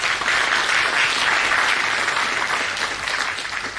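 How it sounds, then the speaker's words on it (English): Dense, steady applause from a large audience at a PGDM batch induction programme, loud and continuous throughout before easing slightly at the end, with no voices over it. "give yourself a big round of applause"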